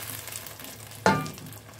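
Crushed tomato hits a hot frying pan while cooking Saudi chicken kabsa, setting off a sudden loud sizzle that bursts up over a low background frying hiss and then slowly fades, with no talking.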